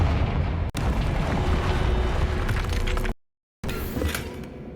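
A Confringo spell explosion in the Hogwarts Legacy video game bursts into a loud, dense blast with a rumbling tail, then a sharp cutoff to silence and a second crackling burst of debris.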